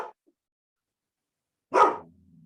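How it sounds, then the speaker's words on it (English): A single loud dog bark rings out close by after a near-silent stretch, preceded by a faint brief yelp at the very start; one of two household dogs. "sorry, my dogs are barking"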